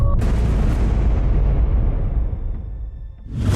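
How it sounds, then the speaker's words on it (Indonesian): A heavy, booming explosion fills a TV studio set, a deep rumbling blast that rolls and slowly decays over several seconds before a second swell rises at the end, with no talk over it. "Ada ledakan apa tadi, Mian?"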